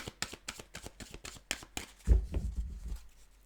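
Tarot cards are shuffled close to the microphone in a rapid run of crisp riffling slaps, ending in a soft thud as the deck settles. No speech is audible.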